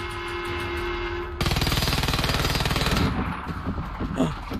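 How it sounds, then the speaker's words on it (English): Airstrikes during a base assault in the video game Generation Zero: a loud, rapid rattling barrage of blasts that begins abruptly, hammers on for a couple of seconds, then breaks up into scattered, fading thuds. "I was right about the airstrikes, but they are not for us"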